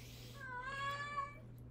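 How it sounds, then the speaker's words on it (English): A house cat gives one faint, drawn-out meow. It sounds at a distance over a steady low hum, with no talking. "Oh, that's my cat."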